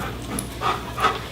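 A two-year-old police K9 dog panting close by, quick steady breaths repeating in a soft rhythm, with no talking.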